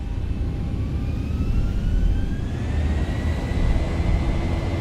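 Twin jet engines of a Boeing 737-800 in X-Plane 11 spool up toward takeoff power, a steady loud roar with whines rising in pitch across the whole stretch and no talking.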